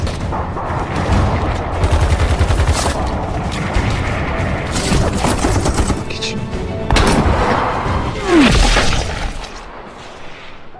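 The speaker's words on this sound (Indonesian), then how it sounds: "Pasukan khusus Turki bergerak perlahan mendekati lokasi tersebut dan kontak senjata pun terjadi." Film gunfire exchange between Turkish special forces and ISIS fighters, scattered shots and bursts of automatic fire with rumbling booms and mechanical clatter over about ten seconds, fading at the end.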